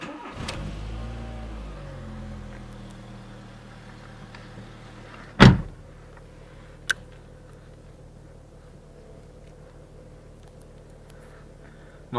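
A petrol Volkswagen Golf 3 cranks and fires for its first start of the day, settling into a steady low idle with a brief sharp knock partway through.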